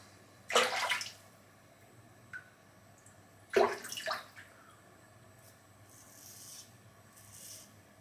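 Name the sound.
dipping palm in water and rubbing on shaving gel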